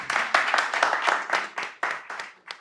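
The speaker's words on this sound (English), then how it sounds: "Yeah, round of applause." Live audience clapping at a Python tech conference talk, a burst of hand claps lasting a couple of seconds, fairly close and loud, thinning out toward the end.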